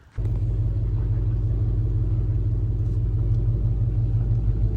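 A CFMoto off-road vehicle engine rumbles steadily and close by, a heavy low drone starting abruptly after a brief quiet moment and holding constant throughout, out on Arkansas back roads.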